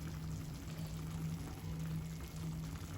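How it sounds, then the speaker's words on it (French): A little water is poured into a lamb and prune tajine, giving a short continuous splashing trickle against a low steady background rumble. "On va ajouter un tout petit peu d'eau."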